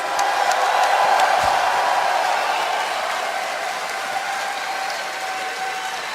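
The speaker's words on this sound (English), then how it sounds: "Go ahead and cheer as loud as you possibly can for us" A large crowd at a BlizzCon 2011 StarCraft II match roars and claps continuously, a dense wash of applause and cheering that slowly fades a little over several seconds.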